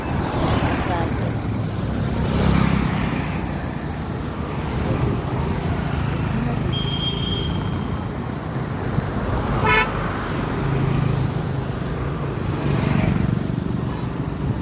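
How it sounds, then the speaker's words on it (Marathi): Road traffic near a building site, with a steady stream of cars and motorbikes rumbling past and several horn toots, one long and one sharp, while voices talk faintly. "गाड्या माग गाड्याची यायला लागल्यात आहे सारखे."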